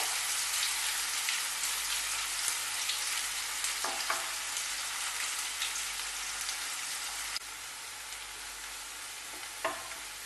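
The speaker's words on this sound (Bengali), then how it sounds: "আর পেঁয়াজটাকেও খুব ভালোভাবে ব্রাউন করে ভেজে তুলে নেব।" Onions deep-browning in a pan, cooked like birista for vegetable dum pulao, give a dense, steady hiss and crackle up close, with a few brief stirring scrapes and no voices.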